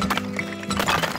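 Horses whinny and hooves clip-clop in the Turmoil video game, short bursts of neighing over a busy layered game soundscape, close and fairly loud.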